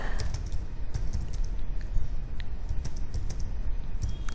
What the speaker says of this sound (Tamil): அந்த TA வச்சு நான் வந்து தமிழில் டைப் பண்ணிக்கலாம்